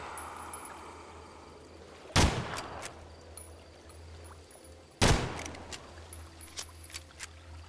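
Two loud gunshots in the Evil Dead game ring out about three seconds apart, each a sharp crack with a trailing echo, over a low steady game ambience with faint chimes and clicks.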